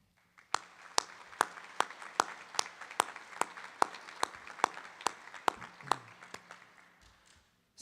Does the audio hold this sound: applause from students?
yes